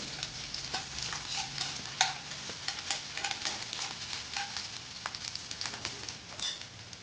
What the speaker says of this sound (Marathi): एक उभा चिरून घेतलेला कांदा घालायचा आहे कांदा लालसर होईपर्यंत आपल्याला परतवून घ्यायचा आहे